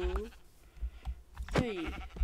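Sheep bleating in the Minecraft video game, a few short wavering bleats spread across the moment, mid-loud and close, with a brief voice or other game noise between them.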